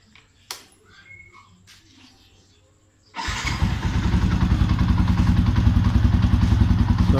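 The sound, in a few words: motorcycle engine starting and running with repainted exhaust canister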